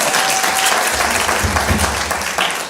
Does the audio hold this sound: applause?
yes